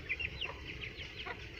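Desi hens and a rooster cluck in short, overlapping calls at close range against a steady farmyard background, with no talking.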